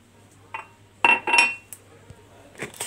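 A spoon scrapes and clinks against a bowl while raw and roasted sesame seeds are stirred together, a few sharp metallic taps and short rustling scrapes close by.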